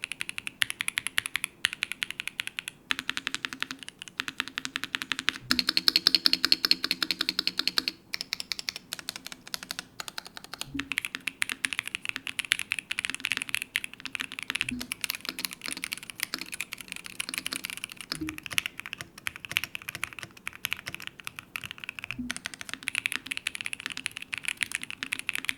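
Steady, deep, thocky typing on an Azoth Extreme mechanical keyboard, with dense rapid keystrokes continuing throughout, close and alone with no voices.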